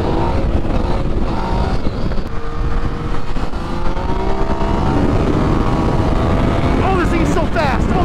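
Fast ride on a 2018 Yamaha MT-09 motorcycle, steady loud engine and wind roar with rising and falling pitch sweeps near the end, while a rider talks excitedly over it.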